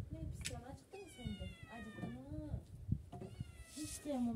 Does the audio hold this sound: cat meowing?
yes